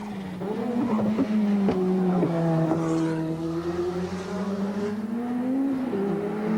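A 1988 touring car tears around the Bathurst circuit at Forest Elbow in the Asia-Pacific Touring Car Championship, its engine holding a loud, sustained howl with rising and falling pitch through the corner, close and continuous.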